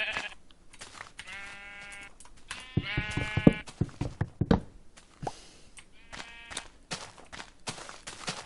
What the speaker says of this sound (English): You know, the sheep respawn anyway, so it doesn't matter.